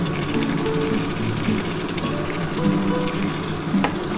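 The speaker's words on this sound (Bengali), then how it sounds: "এবার আমি টমেটোটা দিয়ে দিচ্ছি" Tomatoes frying with Lote fish in hot oil give a continuous, fairly loud sizzle and crackle, with faint scrapes and a brief clink near the end.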